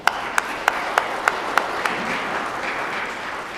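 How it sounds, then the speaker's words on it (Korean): An audience claps for a church choir, with a few sharp individual claps at the start blending into a continuous wash of applause that holds steady to the end. "박수 한번 주십시오"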